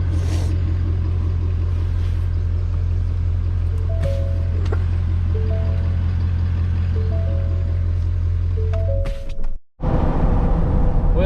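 Steady low diesel rumble from a 6.7 Powerstroke truck engine idling while warming up, close and continuous, with faint intermittent tones above it and a brief dropout near the end.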